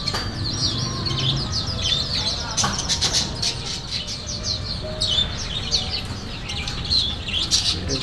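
Parrots in a bird shop, a busy chorus of sharp chirps, tweets and squawks from several birds at once, some near and some farther, with occasional wing flutters and no clear talking.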